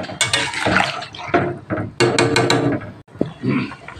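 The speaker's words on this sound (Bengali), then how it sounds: "আর একটু জল দেব।" Water poured into a pot of simmering potato-and-pointed-gourd egg curry, a close, steady splashing fill lasting a few seconds with brief pauses and clinks of the pot.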